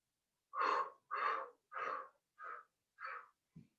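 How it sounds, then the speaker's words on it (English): Noisy Pilates breathing during the hundred exercise: six forceful, breathy puffs in an even rhythm, close and loud, the last one shorter and lower. "It's a noisy one. I want to hear the breath."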